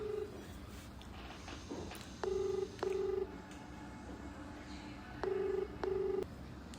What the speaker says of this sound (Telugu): మనోకి అయితే ఫోన్ చేస్తున్నా గైస్.